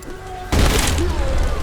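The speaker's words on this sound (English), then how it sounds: "Wow, that was explosion on friggin' impact." A sudden loud explosion on impact bursts out midway in the Trepang2 shooter game, a sharp boom followed by a rumbling, crackling tail that fills the rest of the moment.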